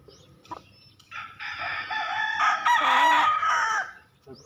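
A rooster crows loudly and close in a chicken coop, one long drawn-out call with hens clucking faintly around it.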